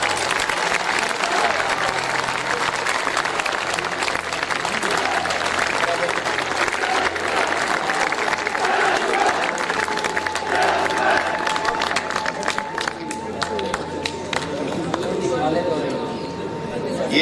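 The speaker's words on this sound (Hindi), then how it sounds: "तालियां सबको बजानी चाहिए।" An audience at an annual college function applauds loudly and steadily, a dense wash of clapping with some cheering that holds for the whole stretch, with a voice audible underneath.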